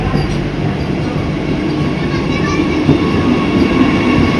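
A Vande Bharat train at Thiruvananthapuram Central station, bound for Mangaluru via Alappuzha, gives off a steady, close mechanical rumble and hum that holds unbroken throughout.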